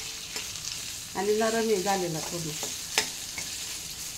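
Soaked, pitted dates being stirred and mashed in a pan while making dry fruit barfi, with soft scraping and a faint sizzle beneath someone speaking Marathi close by.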